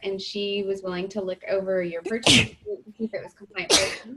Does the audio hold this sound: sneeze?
yes